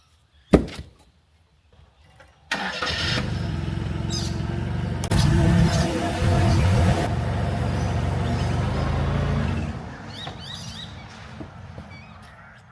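Forklift engine on a farm, lifting a water pod: a door-like knock and thud, then a loud steady diesel rumble starting up and running for several seconds, easing lower toward the end.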